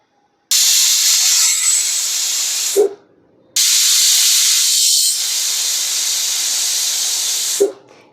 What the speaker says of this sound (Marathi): इथे दोन शिट्ट्या झाल्यात आता मी गॅस बंद करणार आहे